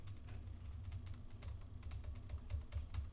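Keystrokes on the low-travel keyboard of a Gigabyte Aorus Master Ti gaming laptop, a quiet, steady patter of soft clicks with no talking, over a low hum.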